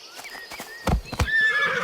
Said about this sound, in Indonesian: Muncullah seekor zebra.